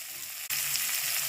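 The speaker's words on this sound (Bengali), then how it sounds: "এবার পেঁয়াজটাকে আমি একটু ভালোভাবে ভেজে নেব" Chopped onion hitting hot oil already seasoned with whole spices and bay leaf, with salt added. A steady close sizzle swells sharply after a brief dip, then holds loud and even.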